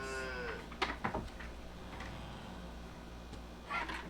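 Calves in a pen inside a greenhouse moo a few times, short, fairly close calls against a quiet background hum, with a louder moo near the end.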